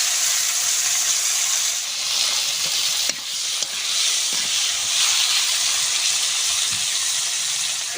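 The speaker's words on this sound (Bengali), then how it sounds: "উচ্ছেটা আমি লাল লাল করে ভেজে নেব।" Bitter gourd slices frying in hot oil with salt and turmeric, giving a steady loud sizzle and hiss throughout with no talk.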